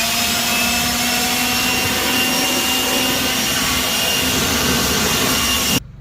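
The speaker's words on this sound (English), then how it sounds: "Y'all saw I went ahead and blew it off with the blower." An air blower roars steadily and loudly at close range, blasting dust off fiberglass bodywork on a Honda CRX build, then cuts off abruptly near the end.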